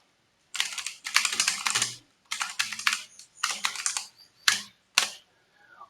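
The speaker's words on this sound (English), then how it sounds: "I'll open my terminal here in the folder, and I'll type." Clicky keystrokes on a computer keyboard as commands are entered in a terminal, arriving in several quick bursts separated by short pauses, close and clear with no talking.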